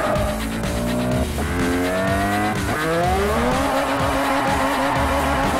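A car in the racing game Forza 4 drifts through tight corners with a loud, revving engine that climbs and drops in pitch over sustained tire squeal.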